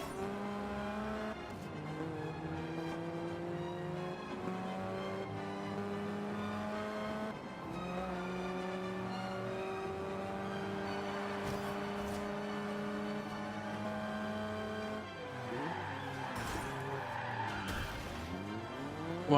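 Tires squeal and skid continuously while a race car brakes and slides in a racing video game, with engine revving underneath. The sound is loud and steady for nearly twenty seconds, with no talking.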